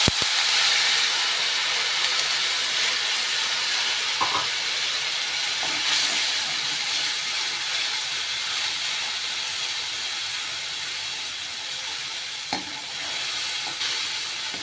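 Tamarind water hits fried ginger in a hot pan while cooking Kerala inji puli. It makes a loud, continuous sizzling hiss with a bubbling boil underneath that stays steady and close throughout, with no talking.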